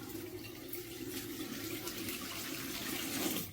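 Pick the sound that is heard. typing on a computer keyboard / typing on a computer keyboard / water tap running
water tap running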